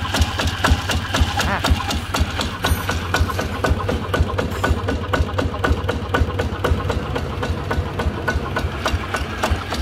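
A YC7 tiller fitted with a ZT155 plus engine runs hard at high speed, its loud, steady mid-low engine drone pulsing rhythmically and close up for the whole stretch, with a voice talking over it.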